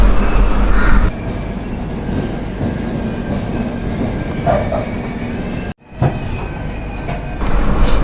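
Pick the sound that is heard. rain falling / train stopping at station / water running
train stopping at station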